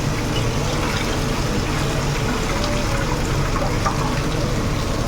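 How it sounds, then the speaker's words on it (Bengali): Water poured into a pan of spiced potato curry after the masala is fried, a steady loud trickling and splashing close by that runs evenly throughout with no talk. "একটুখানি নাড়াচাড়া করেই জল দিয়ে দেবো"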